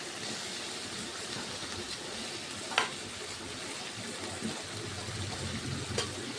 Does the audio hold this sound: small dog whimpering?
no